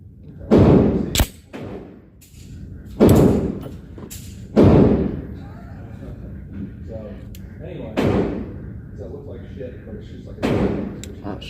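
Handgun shots crack at a shooting range in a quick series, about six sharp, loud reports spread over several seconds, with a voice speaking between them.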